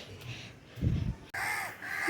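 Crows caw in harsh, repeated calls, loud and close, rising over a low background murmur after a brief muffled thump.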